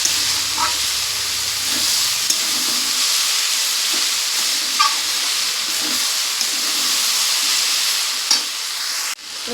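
A frying lentil and turmeric mix in a pan has water added before the lid goes on, producing a steady, close, loud sizzle and hiss with faint stirring, then a soft knock near the end.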